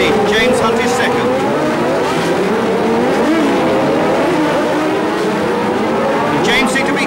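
Formula One race cars from the 1976 US Grand Prix West roar continuously through a tight street-circuit hairpin, loud engine whine with tyre noise, while a commentator talks over them.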